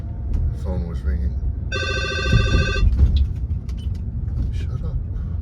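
A phone trills once for about a second inside a moving car, bright and fairly close over road rumble, with voices talking around it.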